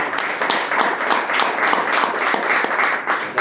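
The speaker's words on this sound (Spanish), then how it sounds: "Dale el aplauso al Señor" A church congregation breaks into loud, dense applause during a sermon. The clapping is sustained and even throughout, with no break.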